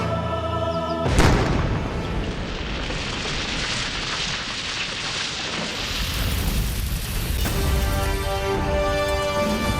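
A sudden loud boom bursts out, followed by a sustained roaring, crackling rumble that fills the space, with a second surge a few seconds later.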